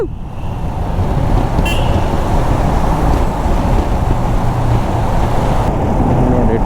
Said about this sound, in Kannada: ನನ್ನ ಬೈಕ್ ಟನಲೆಲ್ಲ ಹೋಗ್ತಿರೋದು ಫಸ್ಟ್ ಟೈಮ್